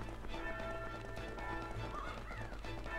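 Horse hooves clop in a quick, steady gallop under background sounds from the video game Family Guy: Back to the Multiverse, fairly quiet and continuous.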